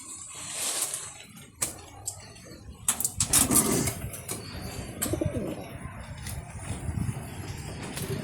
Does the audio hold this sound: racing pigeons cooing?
yes